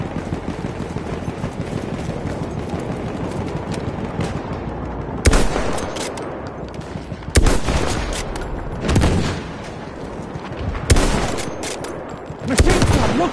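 Loud bursts of machine gun fire punctuate a video game battle, arriving in several clustered volleys over a constant roar of combat noise and distant shooting.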